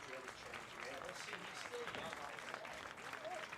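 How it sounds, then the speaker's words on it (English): A baseball dugout empties out to applaud the pitcher Sweeney at a high school championship game, with a faint, steady wash of clapping and crowd noise running throughout and voices mixed in. "the whole dugout is kind of emptying out and applauding Sweeney here"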